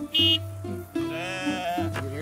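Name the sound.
sheep bleating in cartoon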